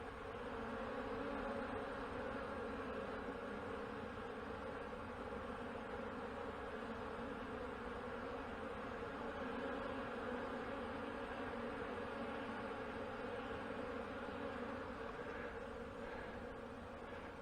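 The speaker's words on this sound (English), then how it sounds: "Yeah, there's a lot of bees in that box." Dense, steady buzzing of a large colony of honey bees inside a hive box during an early-spring inspection, a continuous close drone with no talk over it.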